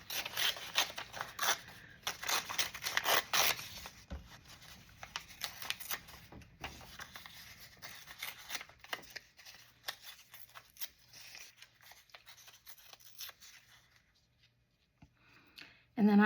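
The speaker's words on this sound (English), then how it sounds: "and I just tear some up." Book paper is torn by hand in a few quick rips and rustles, close and crisp at first, then fading into quieter handling, with a person talking over part of it.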